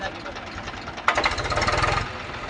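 A tractor engine starting up and running, its rapid knocking chug growing loud for about a second before it eases back, close by with steady background noise.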